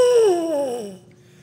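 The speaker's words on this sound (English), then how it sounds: "This time I have our biggest and lowest sounding brass instrument," A baritone horn, a large low brass instrument with piston valves and a trombone-like mouthpiece, sounds a single clear, rich note that slides downward in pitch and fades, heard close and alone.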